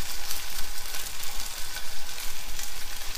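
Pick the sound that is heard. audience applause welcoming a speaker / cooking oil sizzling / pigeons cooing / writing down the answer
cooking oil sizzling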